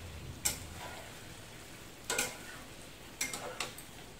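Chilli chicken kofta being stirred with vegetables in a pan, giving a few sharp scraping and clicking strokes spaced across a quiet background with a faint sizzle.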